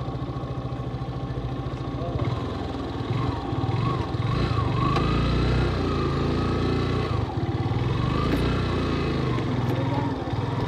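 A motorcycle engine runs steadily at idle as the bikes are parked at the end of a road to Chandragiri's Bhaleshwor temple, a continuous mid-level drone with voices talking over it.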